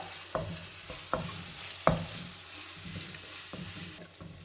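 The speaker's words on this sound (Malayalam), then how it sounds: "അത് വിട്ടുകൊട്ട് നന്നായിട്ടൊന്ന് ഇളക്കാം" A ground paste of chilli, shallot, ginger and garlic sizzles softly in a pan while a spoon stirs it, with a few distinct scraping knocks over a low, steady frying hiss.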